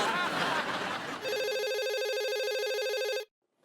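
After a noisy, chattery start, a landline telephone rings with a steady electronic trill for about two seconds, then cuts off into silence.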